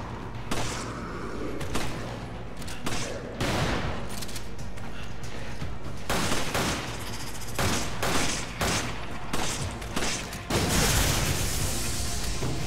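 Rapid gunfire in the video game Resident Evil 5 runs almost continuously as bursts of shots, loud and dense, with brief gaps between volleys and no speech on top.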